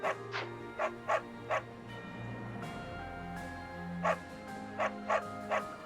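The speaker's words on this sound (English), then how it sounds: "Stop barking at them." A dog in the video game Fire Emblem Three Houses barks in short, sharp yaps, about ten of them in two uneven clusters, over soft, sustained background music.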